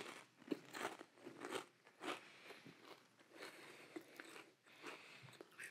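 Repeated crisp crunching bites of a baby carrot seasoned with salt and pepper, or of a Lay's potato chip, heard up close with an irregular rhythm of chewing and no talking.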